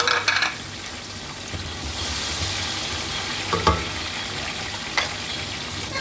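Tomatoes and green chillies sizzle and fry among browned onions in a pan for a pilau, a steady close hiss with stirring scrapes and a couple of brief clinks, no talking.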